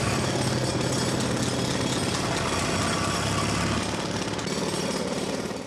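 A recording of road drilling plays from an iPod: loud, continuous jackhammer-style pounding with a rapid, even hammering rhythm and an engine-like drone underneath, with no talking.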